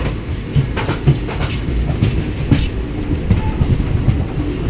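The 11274 Vindhyachal Express pulls out of Kareli station, a steady low rumble with rhythmic wheel clatter over rail joints, heard from close on board, with no talking.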